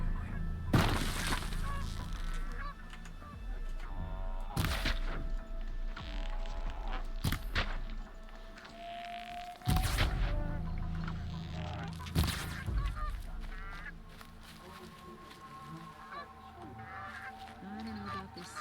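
Geese honk repeatedly in Horizon Zero Dawn, sharp calls recurring every few seconds among game ambience, footsteps and occasional crashing or breaking sounds, moderately loud and close.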